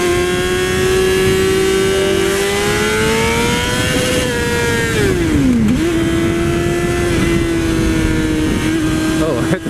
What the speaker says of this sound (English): Oh, hit the rev limiter.